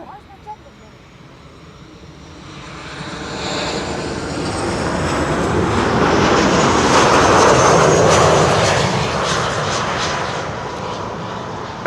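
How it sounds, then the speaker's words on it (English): A KLM airliner arriving from Paris lands at Schiphol on the Kaagbaan, runway 06, with a jet roar that swells from faint to loud over several seconds, peaks, and then begins to fade. A voice talks over it. "KLM flight 1402 arriving from Paris"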